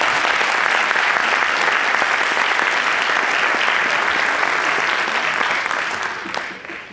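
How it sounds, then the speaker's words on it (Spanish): A concert audience applauds an orchestra for seven seconds in a dense, steady wash of clapping that tapers off at the end. "Sí, por favor, un aplauso para él también"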